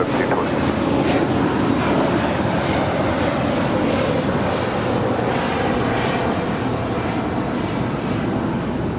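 An airliner takes off from runway 25 Right at Los Angeles International Airport, a loud, continuous engine roar mixed with heavy wind buffeting on the microphone that stays strong and steady the whole time.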